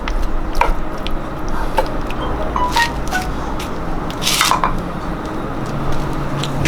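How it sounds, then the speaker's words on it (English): Meat sautéing in a pan for upside-down cauliflower, a steady close sizzle with scattered clinks and scrapes of a utensil against the pan, no talk. "Now we want to saute the meat."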